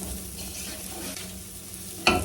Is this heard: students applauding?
no